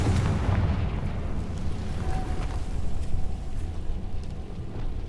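A Confringo spell in Hogwarts Legacy bursts into a loud, rumbling blast that rolls on for several seconds as a dense low roar, heavy and close, with nobody talking over it.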